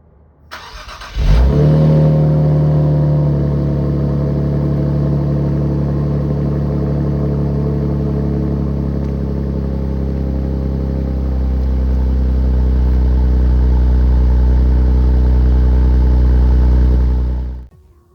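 Nissan Z Heritage with an AWE Touring exhaust fires up on a cold start, a sharp flare followed by a loud, steady, deep idle rumble that holds near and constant for about sixteen seconds before cutting off, with no talking.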